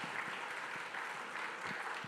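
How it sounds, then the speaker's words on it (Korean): A church congregation at a Saturday dawn prayer service applauds in a steady, moderately loud wash of clapping, with a few sharper individual claps standing out. "박수 올려드리겠습니다."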